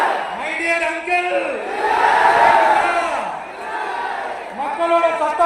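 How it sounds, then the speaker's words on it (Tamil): A large crowd at a political party conference in Madurai roars with cheers and rallying shouts, a dense, swelling wall of voices that rises to a peak midway and then surges again. "மக்களோட சத்தம் கேட்குதா?"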